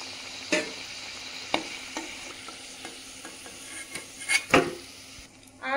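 Khaja pastries fry in hot oil with a soft continuous sizzle, punctuated by scattered metal clinks and scrapes of a utensil against the pan, growing busier toward the end.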